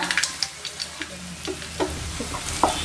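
Curry leaves sauté in a pan for dry vanjiram fish thokku, giving a continuous close sizzle broken by irregular scraping stirs and a few sharp metallic clicks of a spoon. No one speaks.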